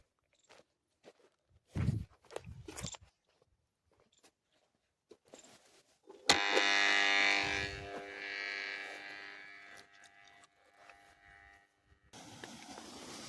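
Scattered footsteps and rustling come first, then a borewell water pump motor on farmland kicks in with a buzzing, whining hum that holds for several seconds before easing off.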